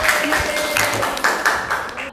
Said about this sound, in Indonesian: tepuk tangan untuk kelompoknya Mbak Ica.